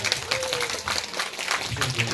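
An audience at a Korean panel debate on lifelong education claps in a brief, dense burst of applause, with a voice talking over it.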